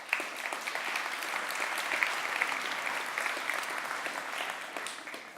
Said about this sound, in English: this is worth another round of applause